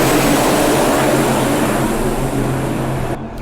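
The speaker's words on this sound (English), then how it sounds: "all the planes are flying overhead landing" Propeller airplanes pass low overhead while coming in to land at a small airport beside a powerboat racing course, a loud, steady droning roar that holds for several seconds before cutting off abruptly at the end.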